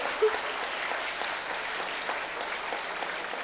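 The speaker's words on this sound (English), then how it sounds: "Guys, they deserve an applause, okay?" Audience at an alumni awards ceremony applauds in a dense, even wash of clapping that holds steady throughout, fairly loud with no talk over it.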